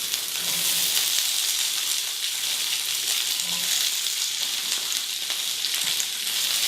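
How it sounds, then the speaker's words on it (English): Steady, bright sizzling of green beans frying in a hot pan, a continuous crackling hiss with no voices. "You're gonna hear that sizzle."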